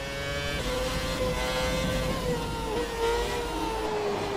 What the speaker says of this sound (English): the engine sound absolutely amazing